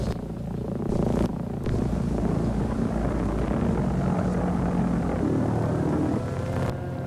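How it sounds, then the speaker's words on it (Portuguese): A loud, continuous droning roar of a V-1 flying bomb's pulse-jet engine, rough and pulsing, sustained throughout with brief dips in intensity. "Mas muitas bombas voadoras permaneceram intactas. Tinham um ruído peculiar."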